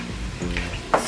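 Ham base being stirred in a sizzling pot, a short burst of hissing with a scrape of the spoon and a brighter clatter at the end.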